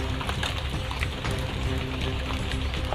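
Steady rain falls on a mountainside, a dense, continuous patter with scattered louder drops, close and even throughout with no talking.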